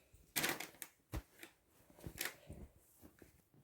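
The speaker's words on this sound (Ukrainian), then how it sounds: "Пакетик перший. Буду розкривати разом з вами." Crinkly plastic rustling and crackling in short bursts, close by, as a package is handled and torn open, with no voices.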